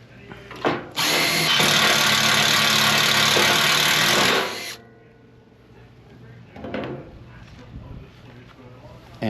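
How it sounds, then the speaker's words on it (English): A power drill bores new holes for mounting a Harbor Freight lift, whining loudly and steadily for about four seconds before stopping, followed by quieter handling clatter and a short second burst. "you need to go back about an inch and a half and drill 2 new holes"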